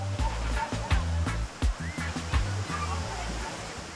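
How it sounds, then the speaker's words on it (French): Dunn's River Falls in Jamaica, a waterfall cascading about 200 metres down to the beach, gives a steady wash of rushing water, with faint knocks and patches of low rumble mixed in, and no talk. "Sur la plage aboutissent les Dunn's River Falls. Cette gentille cascade dévale la pente sur une longueur de 200 mètres."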